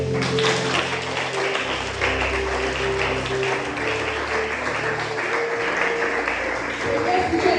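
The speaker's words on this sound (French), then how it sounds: "On acclame le Seigneur." A church congregation applauding the Lord during a service, a dense, steady wash of clapping that fills the whole stretch at fairly loud level, with a low murmur and tones beneath.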